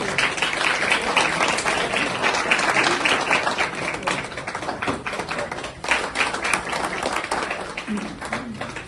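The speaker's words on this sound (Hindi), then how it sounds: "तालियां बजती रहनी चाहिए।" A crowd at a farmers' gathering claps continuously, dense fast applause filling the room, with a voice speaking faintly underneath.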